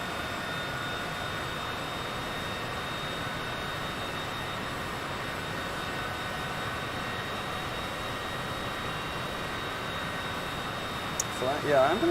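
Steady jet engine roar from an aircraft in a flight simulator game on approach at about 130 knots, a constant droning whine with faint tonal hum that holds evenly, a slight rise and a brief click near the end.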